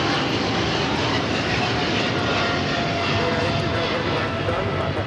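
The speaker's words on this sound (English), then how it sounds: "This is Korean Air Cargo 8208 taking off to Seoul." A Korean Air Cargo jet takes off from runway 25 left at LAX, with a loud, continuous, broadband engine roar that holds steady throughout. Faint voices sit underneath it.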